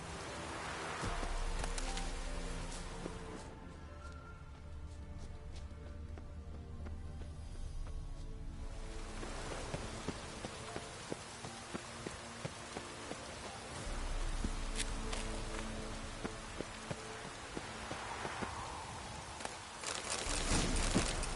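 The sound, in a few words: rain falling in the video game Witcher 3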